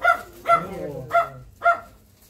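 A dog barks four times at a steady pace, close by, with a whimpering whine between barks.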